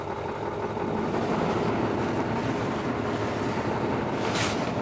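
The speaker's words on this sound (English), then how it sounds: "Let's let that idle for a little bit." Ford F250 diesel truck idling after a cold start, a steady continuous engine rumble with broadband noise throughout, fairly loud and close, with no talk.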